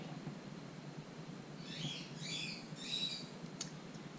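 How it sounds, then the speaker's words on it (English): Pet bird calling at home in the morning: a few soft, high chirps in quick bursts, fairly distant, over a quiet room hiss, with no talk. "And our bird is saying good morning again."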